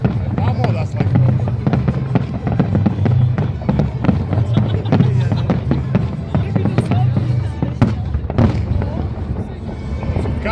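Holiday fireworks salute in Riga, a dense continuous barrage of bangs and crackles with sharp bursts throughout, loud and close, with voices of a crowd talking underneath.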